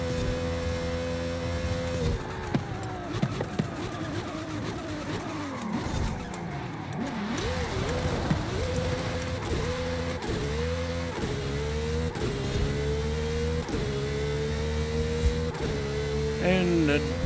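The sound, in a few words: race car driving and braking in video game Forza Horizon 5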